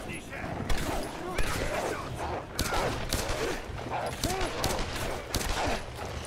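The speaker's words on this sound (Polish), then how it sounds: "O, jakieś strzały słychać." Scattered gunshots and bursts of gunfire crackle in the video game Tomb Raider (2013), some distant and some nearer, under ongoing talk.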